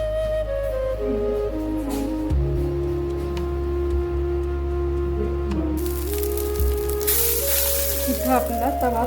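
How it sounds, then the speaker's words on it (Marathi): Uttapam batter sizzles on a hot tawa with a steady, close frying hiss that rises louder toward the end, with a low kitchen hum underneath. "इथं आपला तवा तापलेला आहे, तो आपण पहिल्यांदा उत्तापा घालून घेऊया."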